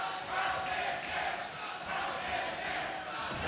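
A wrestling arena crowd at a TNA event roars and cheers in a sustained, distant-sounding wash of voices, rising and falling slightly but never stopping.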